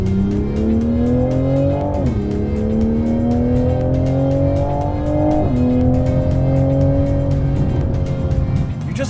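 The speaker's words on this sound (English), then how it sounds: "You just want to rev this engine all the time." A 2020 Toyota Supra engine climbs loudly through the gears while driving, pitch rising steadily and dropping at two shifts, heard from inside the cabin with a brief voice underneath.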